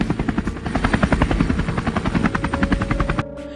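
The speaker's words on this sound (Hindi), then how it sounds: "शहर में एक हेलीकॉप्टर रोबोट बहुत सारी चोरियां कर रहा है" A helicopter robot flies in an animated Hindi story about a remote-control helicopter, its rotor chopping in a loud, fast, steady pulsing beat with a high whine, close by, before cutting off abruptly near the end.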